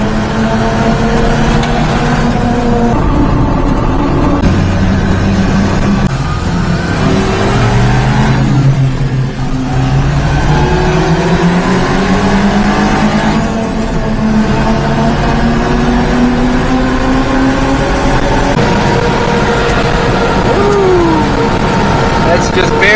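A supercharged mini-truck engine idles and revs gently under barely touched throttle, pitch rising and falling in smooth swells, loud and close, with someone talking over it.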